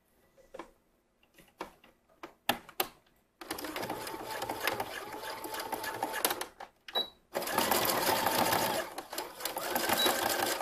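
A sewing machine runs a basting stitch on a swim top, first in short stop-start bursts and clicks, then in two long steady runs of rapid stitching, close and loud.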